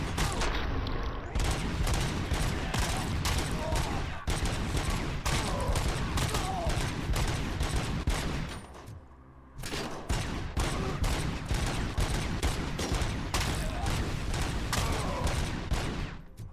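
Sustained, dense gunfire from a first-person shooter, RoboCop: Rogue City, loud and near with rapid overlapping shots throughout and a brief lull midway.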